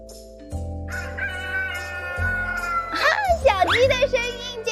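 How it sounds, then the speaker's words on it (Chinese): A rooster crows and chickens cluck in a children's animal-sounds quiz, the calls loud and close, rising into sharp squawks toward the end. "小鸡的声音，这个我知道"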